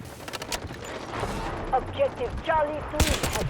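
Sniper fire from an AWM rifle in Delta Force cracks out in a few sharp, separated shots amid game noise, while a player talks excitedly in Thai over the action.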